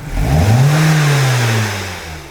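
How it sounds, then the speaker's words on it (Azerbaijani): A Hyundai Sonata engine, which had vibrated, stalled and lost power, revs up loudly, holds a steady high whine for about a second, then winds back down toward idle. "Qaz ver maşına"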